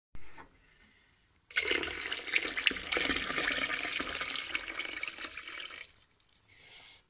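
Hot water poured from a kitchen tap or kettle into a pot of vegetable broth, a steady splashing gush lasting several seconds, close and fairly loud, then cutting off into quiet.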